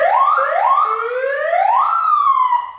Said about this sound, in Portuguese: A buzina, rapaziada, é ótima pra fazer trollagem. Tem a sirene.